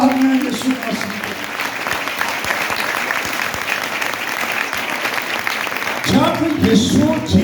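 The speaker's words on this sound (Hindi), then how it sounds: "जोरदार तालियां यीशु मसीह" A congregation at a church Christmas meeting breaks into loud, sustained clapping. A voice speaks briefly at the start and again at the end of the applause.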